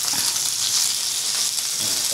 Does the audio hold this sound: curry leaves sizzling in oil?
yes